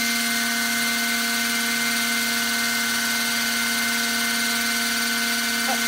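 An RC Aerodyne Roban EC135 model helicopter on its maiden flight, rotors running with a steady, loud, continuous whine and hum that stays close and unbroken throughout, with no voices.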